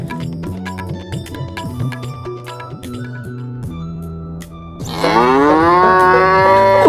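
A cow lows in a Bangla cartoon, one long loud moo rising clear and close near the end, following a stretch of tuneful background music with no talk.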